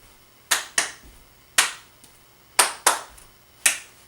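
Sharp hand claps ring out during a flash mob dance routine, six crisp close claps in step-clap groupings, mostly in pairs with a single clap between, with faint shuffling between them.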